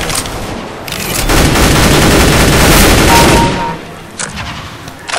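Rapid automatic gunfire in Counter-Strike: Global Offensive, a dense sustained burst of shots lasting a couple of seconds, loud and close, followed by a few scattered single shots.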